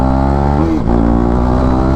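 A KTM RC 390 motorcycle revs hard during an aggressive ride, its loud, close engine drone holding steady, dipping briefly mid-way, then climbing again.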